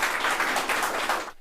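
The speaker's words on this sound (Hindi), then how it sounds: "इनके लिए एक बार जोरदार ताली।" Enthusiastic applause from an audience at a teachers' felicitation ceremony, dense steady clapping with no voices, stopping abruptly at the end.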